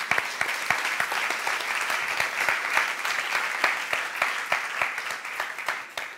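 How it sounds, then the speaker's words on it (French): Steady applause from an audience, many hands clapping densely and continuously at moderate volume for several seconds. "On peut l'applaudir."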